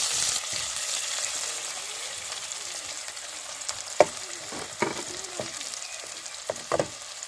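Chopped onion sizzling in hot mustard oil with black cumin, a constant bright frying hiss broken by a few sharp clinks and scrapes of stirring.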